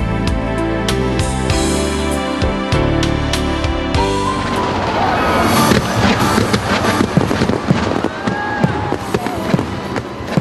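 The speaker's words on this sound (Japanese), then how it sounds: "宝塚観光花火大会は1913年、大正2年以来、武庫川観光ダム周辺で毎年続けられている歴史の古い花火大会です" Fireworks at the Takarazuka fireworks festival beside the Mukogawa dam, a long-running summer display in Hyogo, Japan: dense crackling bursts and booms build after a few seconds, layered over steady music throughout.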